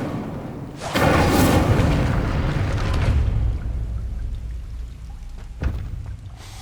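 A fire spell cast in the Hogwarts Legacy video game on PS5 bursts out as a loud whooshing blast, roaring for a couple of seconds before settling into a crackling rumble, with a short sharp hit near the end.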